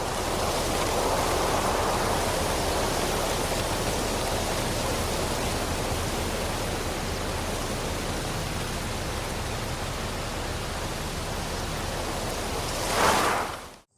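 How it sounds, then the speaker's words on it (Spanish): Steady, loud rushing wind roars continuously through foliage like a broad wash of noise, easing slightly before a brief gust and sudden cutoff at the end. "Cuando el viento es lo suficientemente fuerte, este árbol parece bailar."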